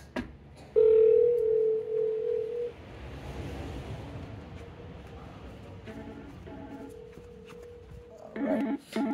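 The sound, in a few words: IP phone dial tone when calling an extension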